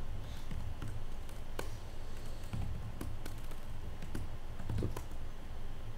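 Rapid typing on a computer keyboard, steady irregular clicks of keys pressed by hand at close range, continuing without pause and with no talking.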